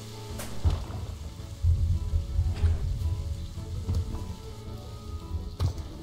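Steady rain patters on a surface with scattered louder drops in the video game Planet Zoo, a continuous wet hiss with no voices.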